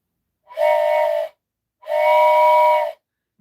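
A toy train whistle sounds in two sustained steamy blasts, each about a second long with a breathy hiss, loud and close, separated by a short pause.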